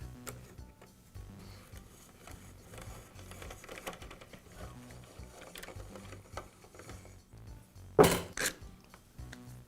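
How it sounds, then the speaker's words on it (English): Bolts come out of the carburetor and intake plate on an Echo leaf blower, with quiet ratcheting clicks and light metallic handling, then a sharp clatter near the end. "Now remove the two bolts that secure the prevent plate and the carburetor."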